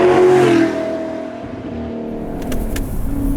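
A high-revving sports car engine, of the kind that revs to 9,000 rpm like a GT4 or RS, sings loudly up close with a sustained whine, then settles into a steadier drone.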